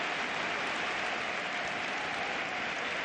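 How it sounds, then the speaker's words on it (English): Home fans applaud across a football stadium after a stunning goal by Messi against Real Betis, a steady wash of crowd clapping that fills the whole stretch at an even, distant roar. "there's even applause from the home fans"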